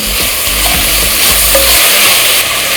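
Tomatoes and curry leaves sauté loudly in a hot pan, a dense continuous sizzle with scraping stirs and clanks near the mic, no voices.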